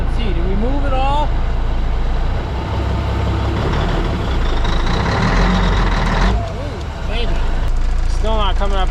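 A Kenworth K100 cabover truck, unused for 30 years and with an exhaust leak, idles loudly and steadily nearby in gear, its deep rumble continuous throughout with brief higher whines.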